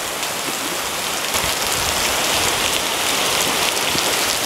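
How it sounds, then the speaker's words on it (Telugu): Heavy rain pours down steadily at Nanning Garden Expo Park in China, a dense close roar of drops that swells slightly toward the end. "వర్షం పెద్దది అవ్వడం వల్ల మనం అటు పోలేకపోతున్నాం."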